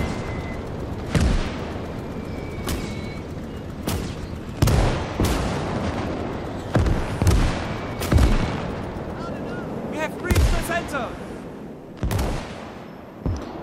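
Rifle shots, machine-gun bursts and booming artillery from the WWII Eastern Front game Call to Arms - Gates of Hell: Ostfront crack out at irregular intervals, some near and sharp, others distant thuds, over continuous battlefield rumble.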